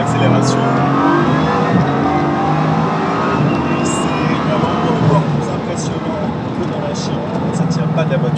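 A 2020 Bugatti Chiron Pur Sport accelerates hard, its loud, close engine roaring steadily with rising tonal sweeps throughout, and no voices over it.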